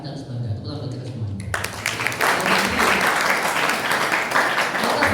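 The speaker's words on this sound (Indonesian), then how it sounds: "Tepuk tangan kita semua." Audience applause at an Islamic (Aswaja) lecture event in Indonesia, swelling from a murmur into sustained, dense clapping that fills most of the clip.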